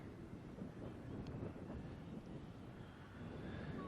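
Steady wind buffeting a microphone outdoors, a continuous rough low roar with a faint high whine of a small Eachine Mini T-28 Trojan RC plane in the background.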